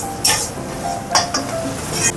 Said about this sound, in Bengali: আর একটু নাড়িয়ে নিই।